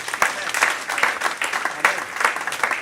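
A congregation claps at a religious wedding ceremony, steady applause with rising and falling swells through the whole moment, fairly close and full.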